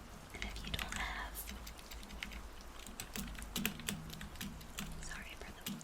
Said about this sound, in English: Sorry for the keyboard noises.